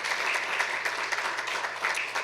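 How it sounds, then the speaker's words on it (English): A hall audience at a city's state-of-the-city address claps for municipal staff and directors, a dense, even patter of many hands that holds steady throughout at moderate distance. "So a big round of applause for our dedicated staff and directors here tonight as well"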